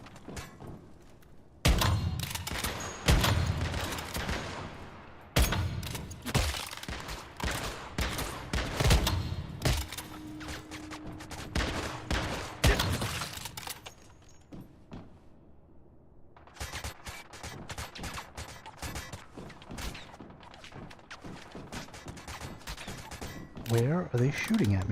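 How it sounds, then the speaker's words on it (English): Enemy gunfire aimed at the player in Once Human, loud bursts of rapid shots broken by short pauses, with thuds and mechanical clatter and a voice talking at times between the volleys. "Where are they shooting at me from?"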